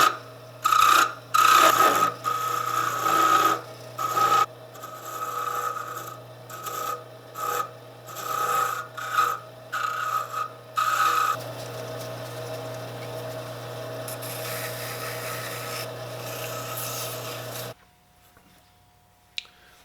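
Wood lathe turning a Christmas tree decoration with a square tool, giving a bursty scraping rasp in short cuts that settles into a steadier continuous rub before stopping near the end, heard alone and up close.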